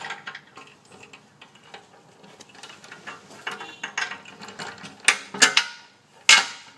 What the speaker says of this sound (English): Slide the nut on and tighten.